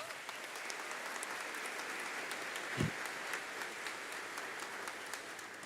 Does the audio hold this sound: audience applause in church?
yes